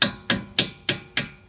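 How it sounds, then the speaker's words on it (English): Hammer tapping a punch's lower locking ring loose: five evenly spaced sharp metallic taps in quick succession, each with a short ringing decay, close and loud. "You're going to loosen this lower locking ring with a hammer"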